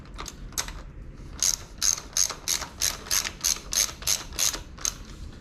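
A ratchet wrench tightening the oil drain bolt on a Yamaha TTR-125 dirt bike gives a steady run of about a dozen crisp, close clicks in an even rhythm.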